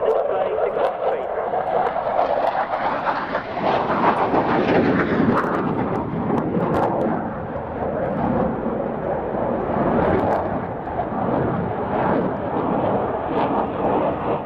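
F-16 flying a display with flares at Fairford, a loud rushing jet roar that swells and fades over the whole stretch, with some faint voices underneath.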